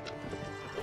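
A horse in the medieval combat game Mount & Blade: Warband, heard as quick hoof clip-clops with a brief whinny mixed into busy battle noise.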